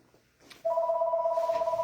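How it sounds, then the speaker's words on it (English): A telephone rings with an incoming call, a steady electronic two-tone ring that starts abruptly after a quiet moment and holds loud and even, with a faint voice underneath. "Oh, that's a phone call."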